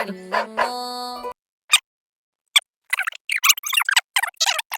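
A dog gives a couple of short, sharp barks close by, followed by quiet scattered clicks and scuffs.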